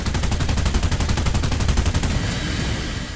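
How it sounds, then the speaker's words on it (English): Twin 20mm cannons on a bomber fire in War Thunder, a loud rapid rattle of evenly spaced shots that runs without pause for most of the stretch before easing off near the end. "It has guns, a couple of 20mm cannons to be exact"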